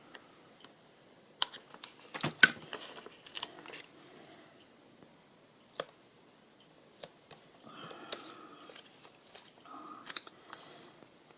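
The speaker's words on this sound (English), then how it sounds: "Sticky scissors." Quiet, close snips and small clicks as scissors cut sticky dimensional foam pads for a papercraft project, scattered irregularly with soft rustling between them.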